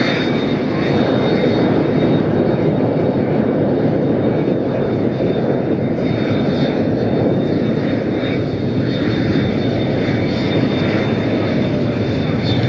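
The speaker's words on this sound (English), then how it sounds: "a little Mexican citation here" A Cessna Citation business jet lands in a gusty crosswind at Las Vegas, its loud, continuous turbine roar and whine carrying steadily with wind noise mixed in.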